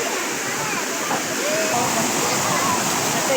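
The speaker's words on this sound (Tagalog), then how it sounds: "Dito bumabagsak ang tubig." Water pouring down from a swimming pool above at a spring resort in Lagayan, Abra, a loud continuous rushing roar close by, with voices talking faintly beneath.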